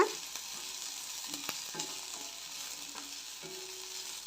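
Ginger and green chillies are sautéing in a pan for kurma, a soft, steady frying sizzle with occasional light scrapes of stirring, quiet and close, with no voices.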